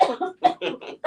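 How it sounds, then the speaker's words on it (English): Several short, breathy coughs or cough-like bursts come in a quick uneven series, close and fairly loud, with a brief spoken word mixed in. "So I had a cough come through."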